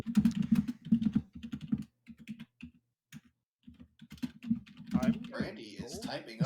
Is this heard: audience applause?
no